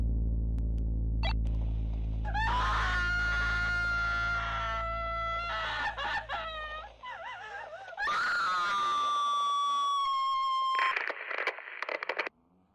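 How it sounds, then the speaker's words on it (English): A woman's screams for help ring out in a haunted building as long, eerie, wavering wails that rise and fall over a low rumbling drone, with no talking. "A woman screaming for help."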